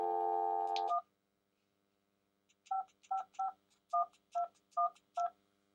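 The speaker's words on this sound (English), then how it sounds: "And there we have dial tone." A steady telephone dial tone from an EnGenius Freestyl long range SIP phone speaker hums for about a second, then cuts off, followed after a pause by a series of short keypad beeps.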